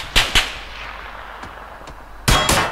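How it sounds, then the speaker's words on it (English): Sharp gunshots ring out in a PUBG match: two quick cracks, a couple of fainter distant pops, then two more loud shots close together at the end, with quiet between. "I don't know where they're shooting."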